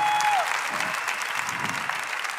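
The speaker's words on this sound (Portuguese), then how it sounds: "vamos aplaudi-los." An audience at a Catholic priest's live music show applauds the performers with loud, steady clapping; a brief tone rings out at the start.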